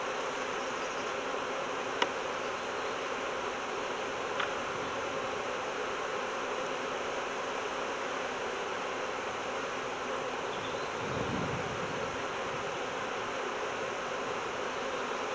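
Honey bees hum around their hive in a dense, continuous buzzing drone that stays steady throughout, with one faint thud partway through.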